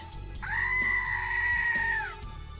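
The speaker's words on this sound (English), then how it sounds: "I didn't hear the goat scream, unless it already played." A loud goat scream from a visual novel game rings out in one long, drawn-out, human-like wail lasting nearly two seconds over a low background hum.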